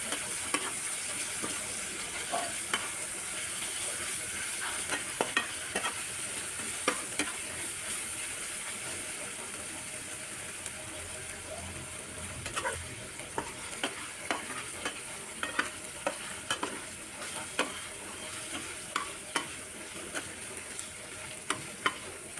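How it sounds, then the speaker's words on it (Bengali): Ginger and garlic paste fries in a pan with a low steady sizzle while a spoon scrapes and stirs it, giving repeated sharp clinks throughout. It is fairly quiet, and there is no talking. "আদা রসুনের কাঁচা গন্ধ যাওয়া পর্যন্ত ভেজে নিচ্ছি"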